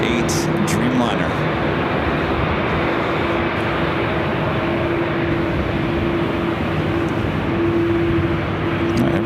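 Aeromexico Boeing 787-8 Dreamliner, flight 647 to Mexico City, taking off at LAX, its engines producing a loud, continuous, broadband roar that holds steady throughout, close and powerful.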